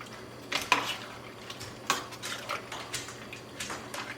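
Cherry chutney with allspice is stirred in a pot, with repeated light clinks and scrapes of a spoon against the metal, quiet and close, with no voices.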